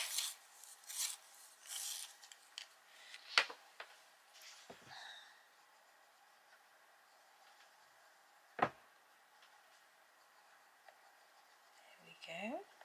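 A colouring pencil is turned in a small sharpener, giving soft rasping and scraping bursts at close range, faint and intermittent with quiet pauses between strokes.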